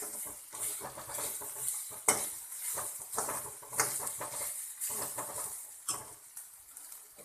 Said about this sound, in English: We need to fry this also.